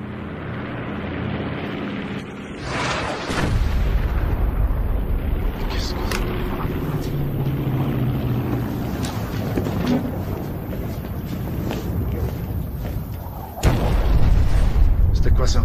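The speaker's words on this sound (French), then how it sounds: "Une bombe? Si ça saute, que Dieu nous vienne en aide." A bomb blast in a film set in Rwanda erupts with a loud, deep boom, followed by a sustained rumbling roar and a second sharp burst near the end.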